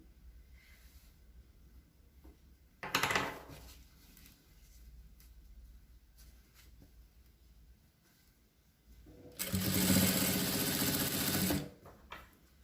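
Domestic sewing machine stitching the square neckline corner of a garment: a short loud burst of stitching, then a longer steady run of about two seconds, both close and alone with quiet gaps.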